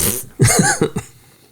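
A close, harsh cough burst followed by a couple of shorter coughs that trail off.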